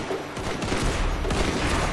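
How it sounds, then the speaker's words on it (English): Dense, continuous musket volley fire in the Roblox Zulu Wars game, many overlapping shots crackling and booming close by in a ragged rolling barrage, with no voices. "Alright, keep firing."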